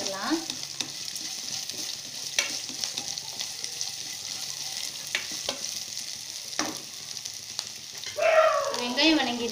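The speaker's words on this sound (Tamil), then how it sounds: "நம்ம எடுத்து வச்சிருக்க முள்ளங்கி போட்டுடலாம்." Radish tossed into a pan of softened onions for a Tamil radish-and-egg stir-fry sizzles steadily, with occasional clinks of stirring; the frying grows louder and more crackly near the end.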